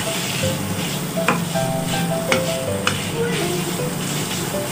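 Minced pork and pickled bamboo shoots sizzle and hiss in a hot wok, with a spatula scraping and clinking against the pan at irregular intervals, loud and continuous.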